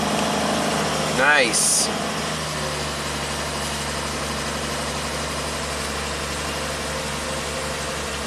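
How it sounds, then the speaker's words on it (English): A 1967 Triumph GT6 engine catches with a short burst, then settles into a steady low idle that runs on throughout, with a brief spoken word near the start. "There goes the starter."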